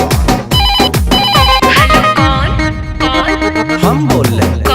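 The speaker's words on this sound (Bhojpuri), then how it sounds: "ऐसा बात है तो लगा ले फिर से फोन, देखते हैं साला उठाता है कौन।" A telephone ringtone sounding after a call is placed, a loud, bright electronic melody repeating in quick pulses, set against a busy Bhojpuri song backing.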